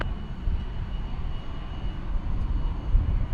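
An American Airlines Boeing 777 jet at an airport, a steady low engine rumble that holds fairly constant, moderately loud and without voices.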